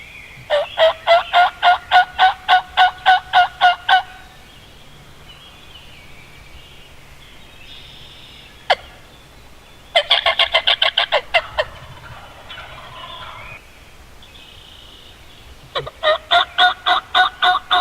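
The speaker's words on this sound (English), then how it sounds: "Soon all 5 toms were together and responding to my calls" Wild turkey toms gobble in loud, rapid rattling bursts in answer to calls. Three separate rounds are heard, with fainter bird chatter and a sharp click between them.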